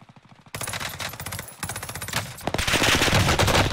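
Sustained bursts of PPSh submachine gun fire in Warzone Pacific rattle rapidly and loudly, with a short pause before a denser, heavier stream of shots.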